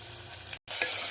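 Tomatoes tipped into a pan of fried onions and ginger-garlic paste, a loud close sizzle broken by a brief silent cut, then crackling and stirring resumes right away.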